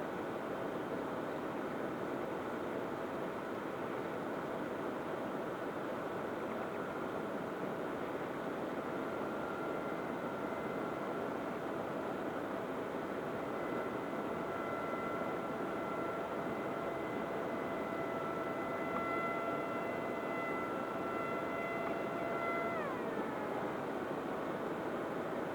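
An Eachine Blackwing 680mm FPV flying wing with a small 2150 kV motor runs at full throttle, giving a steady, continuous propeller whine and airy rush that holds throughout and shifts pitch slightly near the end.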